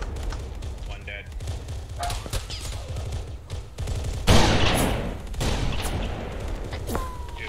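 Gunfire in a military video game: bursts of rapid shots and distant thumps, with a louder crackling volley midway, under radio-style voices talking.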